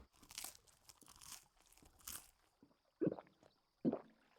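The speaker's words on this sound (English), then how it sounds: "Some very crunchy bread, apparently." Chewing crunchy tavern bread in the Final Fantasy XVI game, with soft crinkly crunches early on and then two loud, sharp bites near the end, close and alone.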